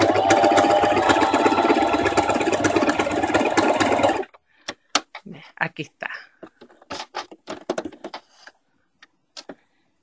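A sewing machine runs an elastic stitch on stretch fabric, whirring loudly and steadily for about four seconds before stopping, followed by scattered clicks and handling noises close by.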